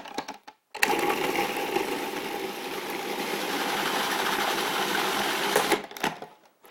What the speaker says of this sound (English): It's as simple as putting it in the food processor.